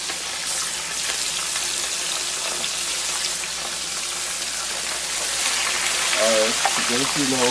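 Escovitch fish fries in hot oil with a steady, loud crackling sizzle throughout, and a voice briefly rises over it near the end.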